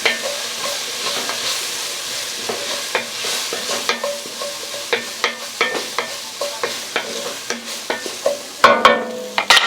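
A spoon scrapes and stirs a seasoned beef mixture sizzling in a hot pan, with rhythmic scraping strokes over a constant frying hiss, close and fairly loud, ending in a clatter, with no talking.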